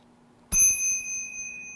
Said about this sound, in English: I will hit that bell.